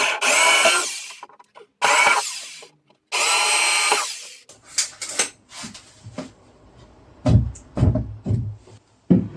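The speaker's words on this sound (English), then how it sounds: "I'm just going to drill straight through this side" A power drill bores straight through a piece of scrap wood in three loud bursts over the first four seconds, followed by softer knocks and handling noises.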